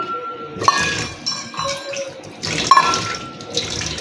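Tap water runs steadily while a dish is washed by hand, with two brief splashy bursts as the dish meets the stream. It is close and moderately loud, with no speech.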